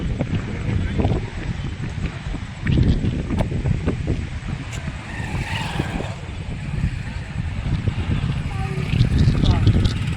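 Strong wind blows across the Jayakwadi dam reservoir under cloudy skies. The microphone picks up constant loud, low buffeting, with some faint sounds in the background.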